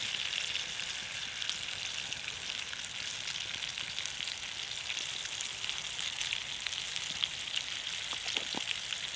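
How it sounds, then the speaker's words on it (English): Steak searing in a pan while camping outdoors, a soft, even sizzle with fine crackling spatter, fairly quiet and continuous, with a few light clicks toward the end. "I like to sear it both sides"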